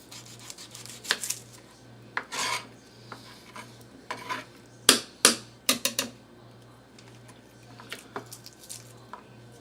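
Garlic cloves are peeled by hand, producing a sparse series of crisp, close rubbing and crackling snaps of papery skin, some sharp and bright, over a steady low hum.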